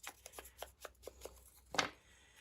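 Scissors cutting the edge of a paper junk mail envelope: a quick run of soft, evenly spaced snips ending in one sharper, louder cut, quiet and close.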